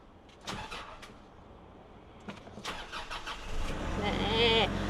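A Nissan Navara Black Edition 2.5EL automatic pickup is started by push button, with a few faint clicks before the engine catches near the end and settles into a smooth idle, while a person talks nearby.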